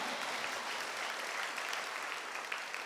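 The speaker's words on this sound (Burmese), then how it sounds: "ယုံကြည်တော်သူများလက်ခုပ်တီးလက်ပြားကိုချီးမွမ်းရအောင်" Church congregation applauding, a dense, even wash of many hands clapping that stays steady and fairly soft throughout, with no voices standing out.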